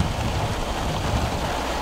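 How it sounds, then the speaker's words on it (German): Steady rain falls in a dense, even hiss as a dark weather front arrives, loud and unbroken with no voices. "es hat angefangen zu regnen"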